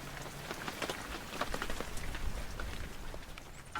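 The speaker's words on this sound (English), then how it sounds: "It turned into a rainy evening, so we just enjoyed the nice cool weather and our view." Evening rain in the high desert near Quito, a steady patter of drops on surfaces with scattered closer splats, fairly faint and with no voices.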